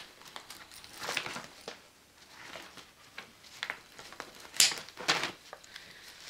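Scissors snip open the plastic packaging around a small pink inflatable cushion, giving soft crinkling and rustling that rises to a few sharp, louder crackles near the end, close by with no talking.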